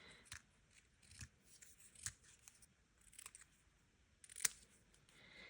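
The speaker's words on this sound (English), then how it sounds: "I'm just going to use my scissors to cut this apart" Scissors cut apart gold heat-embossed card pieces for a Christmas card, giving several quiet, close snips spaced irregularly, with one sharper cut near the end and no talking.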